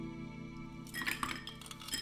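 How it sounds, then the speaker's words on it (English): Ice is dropped into a cocktail glass, a short cluster of bright clinks and rattles over a faint steady hum, quiet and close. "Now we're going to add ice"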